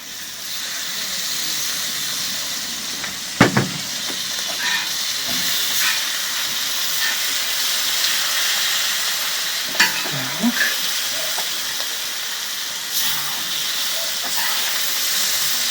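Pork and vegetables being stirred and fried on a sadj make a loud continuous sizzle and hiss, broken by sharp metallic scrapes and clanks of stirring.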